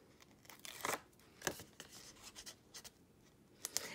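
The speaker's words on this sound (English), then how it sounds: "Now let's peel this off." Adhesive backing peeled off a craft piece, heard as faint, close crinkly rips and tearing bursts in short irregular pulls, with quiet pauses between them and no speech.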